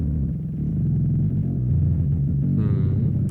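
A song, stretched to an extreme slowness, becomes a continuous low rumbling drone with slowly shifting tones, steady and loud throughout.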